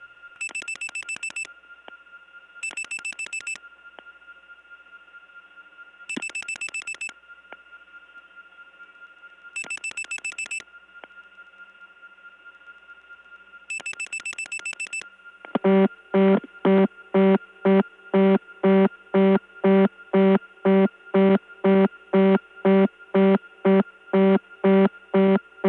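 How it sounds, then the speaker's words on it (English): Dialing through a 1979 step-by-step tandem switch in Gainesville, Georgia: several separated bursts of steady multi-tone signalling, then a long run of rapid, evenly spaced clicking pulses as the digits step through, with no talk. "Here I'm going to dial"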